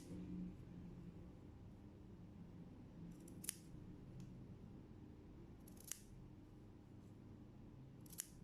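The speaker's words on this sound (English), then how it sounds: "I'm going to snip it up." Scissors snip fabric at a curved seam, giving three sharp isolated cuts spaced a few seconds apart over a steady low background hum.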